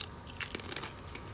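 Crunchy chicharrones are bitten and chewed close by, a brief cluster of crisp crackling crunches that is fairly faint over background noise.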